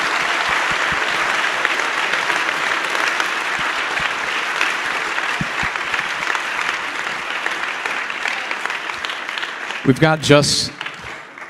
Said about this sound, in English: Could you guys just give these two a round of applause real quickly?